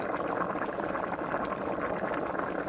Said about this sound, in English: Now in total the pot has been boiling for about 45 minutes.